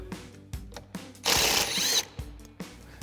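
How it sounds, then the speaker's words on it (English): A T25 Torx screw being backed out of a Jeep Wrangler JL header with a driver: a few sharp ratcheting clicks around a burst of louder whirring or rattling, close and alone. "we're only gonna be removing this rear screw, so you'll need a T25 Torx bit"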